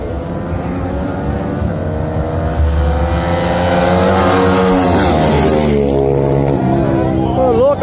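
Motorcycles launch at a drag race in Ourinhos, São Paulo. Their engines scream and rise in pitch as they rev hard, staying loud and close throughout, while a person talks over the noise.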